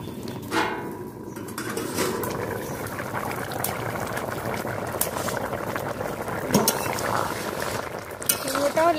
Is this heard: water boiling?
yes